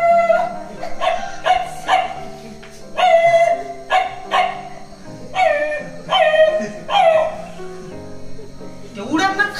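A voice imitates village dogs barking at night, giving repeated bark-like yelps and howling calls in separate bursts, close and fairly loud, with a rising whine at the end.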